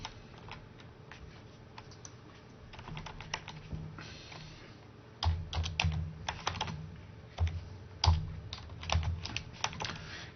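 Rapid clicking keystrokes on a computer keyboard while HTML and CSS code is written, irregular bursts that grow louder and denser partway through, close up with no talking.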